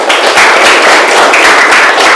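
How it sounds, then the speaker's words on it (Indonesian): Schoolchildren in a classroom burst into loud, close, continuous clapping, a dense rhythmic patter of many small hands with pulsing surges and no voices on top. "Tepuk tangan buat yang PKT hari ini"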